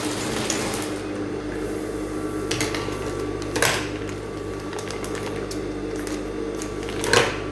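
A sewing machine runs steadily while sewing a basket weave design, a constant mechanical whir with a few louder clicks and knocks scattered over it.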